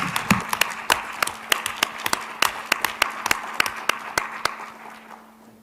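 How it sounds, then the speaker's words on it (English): An audience at a school board meeting breaks into a round of applause, a dense run of sharp claps from many hands that carries on steadily and thins out near the end, with a low steady hum underneath. "Can I just ask for a round of applause for you guys?"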